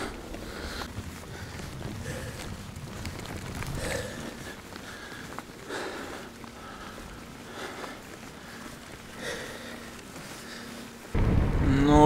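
Outdoor rain during a camping trip, with soft pattering and a low rumble of distant thunder early on. A few brief rustles and sniffs come close by, then a sudden louder burst of noise at the very end.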